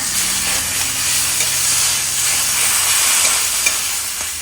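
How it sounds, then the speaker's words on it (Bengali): Onions frying in a pan with a little garam masala, ginger, garlic and cumin paste, giving a steady, close sizzle and hiss that runs without a break and carries occasional faint stirring scrapes. "পেঁয়াজটা ভাজার সময় একটু গরম মশলা দিয়ে দিচ্ছি"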